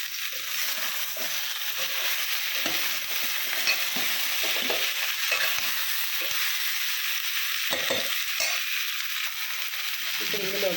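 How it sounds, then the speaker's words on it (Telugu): Tomato pieces tumble into a hot pan of Andhra-style sambar and are stirred, giving a steady close sizzle with scraping spoon strokes and soft clicks against the pan. "ఇప్పుడు ఇందులోకి మనం రెడీగా ఉంచుకున్న టమాటా ముక్కలు కూడా యాడ్ చేసేద్దాం."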